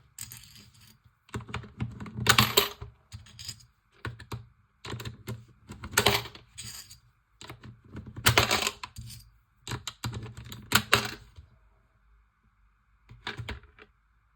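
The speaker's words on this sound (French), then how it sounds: "tirelire qui compte toute seule" Coins drop one after another into a self-counting piggy bank, producing sharp metallic clinks and rattles in irregular clusters over the whole stretch, close and fairly loud with brief quiet pauses between.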